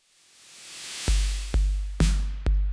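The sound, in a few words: electronic kick drum and snare beat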